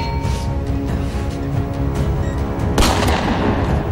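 Video game gunfire from Call of Duty: a loud, steady stream of shots and rumbling battle noise runs throughout, with a sharper, brighter burst near the end.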